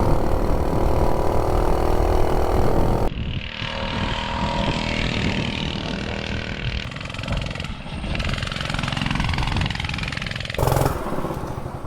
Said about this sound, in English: These little 98cc's are good running engines. This thing actually runs pretty good.